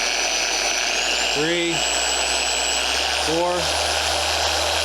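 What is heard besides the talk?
Griot's Garage 3-inch 700 watt polisher running at increasing speeds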